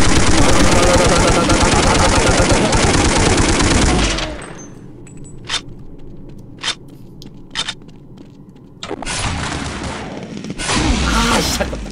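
Sustained automatic gunfire in Counter-Strike Online roars loud and continuous for several seconds, drops to a few isolated sharp shots, then another heavy burst of fire resumes near the end.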